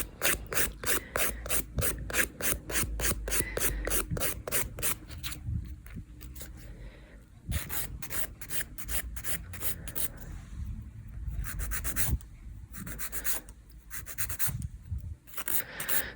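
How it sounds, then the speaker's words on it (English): An electric nail file thinning acrylic nail infill gives a steady high-pitched buzzing rasp with repeated short grinding passes, fairly close and continuous, with no talking. "the e-file would come in really handy to then thinning all of that out"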